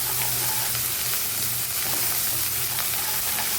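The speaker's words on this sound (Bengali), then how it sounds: "পেঁয়াজটা ভাজা হয়ে গেছে, এটার মধ্যে আমি একটু রসুন বাটা আর একটু আদা বাটা দিয়ে দিব।" Fried onions sizzle steadily and loudly in a pan as garlic and ginger paste goes in, a continuous close crackling hiss with occasional stirring scrapes.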